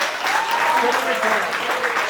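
Audience applause at an evening ceremony, a dense, steady wash of clapping over the whole moment with a voice talking on top of it.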